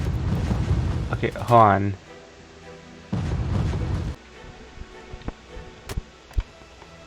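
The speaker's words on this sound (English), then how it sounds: "One of them has got bomb sound again." Bomb explosion effects from the Hearts of Iron 4 strategy video game: two heavy, low, rumbling bursts about a second long, followed by scattered fainter thuds and clicks, with a short spoken phrase over the first burst.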